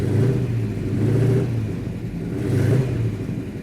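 A 1967 Hemi GTX convertible with a four-speed gearbox accelerates close by. Its deep engine drone swells and eases in two strong surges with no talk over it.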